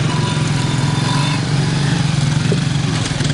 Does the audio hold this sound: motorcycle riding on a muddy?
yes